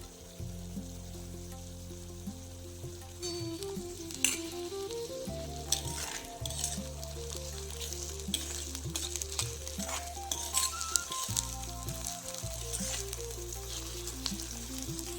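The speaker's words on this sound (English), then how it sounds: "Then add 4 to 5 chopped green chilies and mix well." Green peas and chopped green chilies sizzling and being stirred in a pan while cooking an Indian radish dish: steady close frying crackle with repeated scraping stir strokes and a low background tone, no talk.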